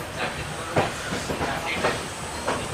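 Sealdah–Puri Duronto Express running along the track, a steady rumbling rush with periodic hissy surges and faint rhythmic clatter, heard from inside or close by.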